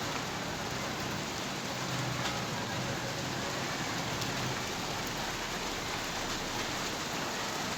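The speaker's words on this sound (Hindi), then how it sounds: "अभी जो है वो बारिश काफ़ी स्पीड से हो रही है" Heavy rain pours steadily and densely, a constant roaring hiss with no talking over it.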